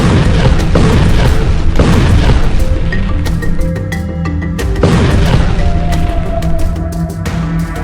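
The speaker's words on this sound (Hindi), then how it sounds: "गाजा से दक्षिण इजरायल में फिर से भारी संख्या में रॉकेट हमास ने दागे हैं" Heavy rocket strike explosions in the Gaza war, loud booming blasts one after another with rumbling echoes and crackling debris filling the whole stretch.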